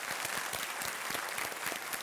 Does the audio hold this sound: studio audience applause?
yes